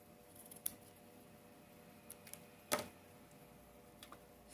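Scissors snip ribbon for a hair bow in a quiet room, with a few faint separate cuts and one sharper, louder snip near the middle, close by and without talk.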